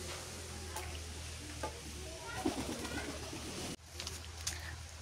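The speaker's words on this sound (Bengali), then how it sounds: "কবুতর আবার এই জায়গায় বসে আছে।" A pigeon perched near a rural house coos softly and faintly, with low murmuring calls under a quiet background hiss.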